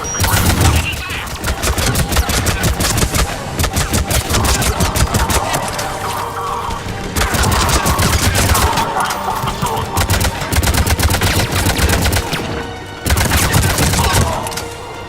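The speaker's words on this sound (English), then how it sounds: "Taking fire." Heavy, sustained automatic gunfire from an attack in the video game Mass Effect 3, dense rapid bursts that are loud and continuous, with brief gaps between volleys.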